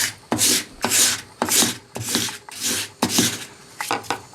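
A file chamfers the edges of the sole on a 1950s Record No. 4 hand plane during a rehab. About eight sharp, close rasping strokes come in a quick, slightly uneven rhythm, with no speech.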